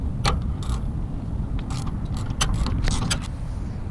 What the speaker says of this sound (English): It's a 14mm bolt and nut that captures this end link that attaches to the frame. I'm just using a couple box end wrenches to do it.